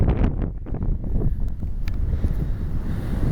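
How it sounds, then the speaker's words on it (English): Strong, gusty wind buffets the microphone atop a sand dune on the Oregon coast near Florence, a steady low roar with loud rumbling surges throughout and no voices. "It's windy and a bit chilly."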